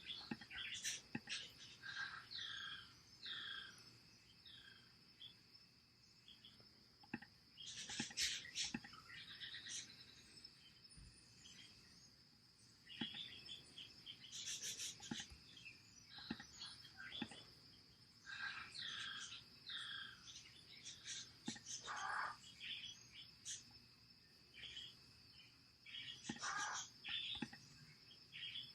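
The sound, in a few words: pet parrot chirping in the background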